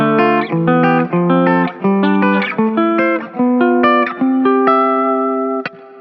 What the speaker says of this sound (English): It's a major scale, just in chords.